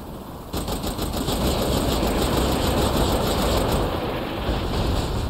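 A minigun in Saints Row The Third fires a sustained, dense roaring stream of rapid shots that kicks in after a short pause and holds loud and steady almost to the end, with no talking.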